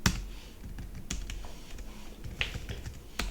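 Keys pressed on a computer keyboard, including the Control key and space bar, in quiet, close clicks and taps at an irregular pace with a few sharper strokes.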